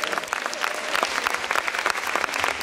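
Big audience applause at a gymnastics gala in Tartu, Estonia, thick and continuous with many hands clapping at once, loud and sustained throughout.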